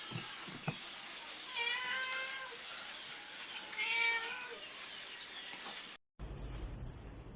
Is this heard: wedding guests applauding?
no